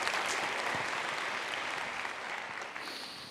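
Audience at a live medium's reunion tour show applauds, a steady, loud wash of clapping from a crowd that fills the whole moment without a break.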